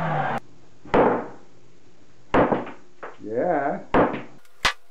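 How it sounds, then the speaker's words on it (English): Several sharp, spaced hammer blows on a copper hot water pipe ring out with brief metallic decay, interspersed with short spoken words. "Now we're gonna hammer it out and see."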